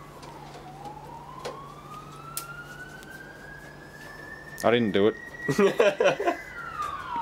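An emergency vehicle siren with an odd, off-sounding tone glides slowly upward in one long, steady wail. It stays moderately distant throughout, and voices talk over it in the second half.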